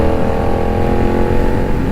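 A Benelli 752S motorcycle accelerates hard on the street, its engine roaring loud and close in one steady, unbroken pull with wind rush.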